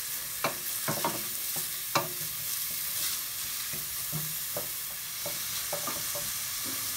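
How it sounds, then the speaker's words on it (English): Onions frying in a pan toward golden brown, a soft continuous sizzle broken by repeated scraping stirs of a utensil, close and fairly quiet with no talking. "The onions, I'm going to get them golden brown."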